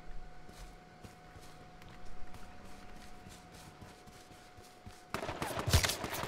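Gunshots in the video game H1Z1: faint scattered shots and thumps under a steady hum, then a sudden loud burst of rapid firing near the end.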